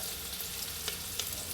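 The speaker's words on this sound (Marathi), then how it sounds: "कुकरमध्ये कांदा आणि कोथिंबीर घालून घ्यायचं" Onion and coriander frying in oil inside a pressure cooker for a chicken curry, a steady soft hiss of sizzling with a couple of faint clicks, no voices.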